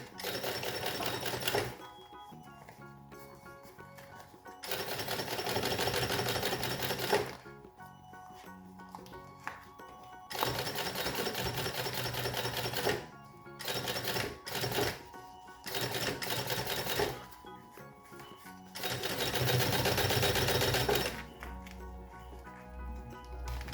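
A sewing machine stitching fabric for a child's lunch box, several close rattling bursts of rapid stitching separated by short pauses, with quieter handling between runs.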